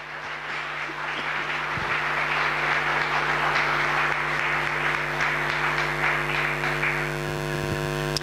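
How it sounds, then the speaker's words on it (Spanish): A church congregation applauding, a steady sustained wash of clapping over an electrical hum, continuing for several seconds without talking. "Démosle un aplauso al Señor."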